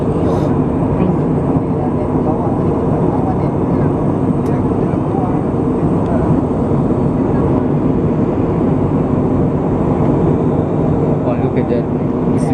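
A steady, loud roar of an airplane cabin in flight, with engine and air noise droning evenly and unbroken throughout.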